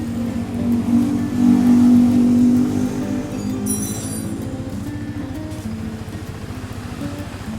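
Stock 2017 Yamaha YZF R15 motorcycle engine revving up to a louder, steady pitch for a couple of seconds, then settling back to a lower, even idle hum. Close and clear, with no talking.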